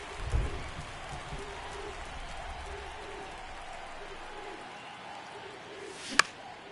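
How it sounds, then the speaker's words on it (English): Heavy rain pours steadily over a baseball game, a continuous soft hiss running throughout, with a dull thump near the start and a sharp crack near the end. "This rain is not letting up."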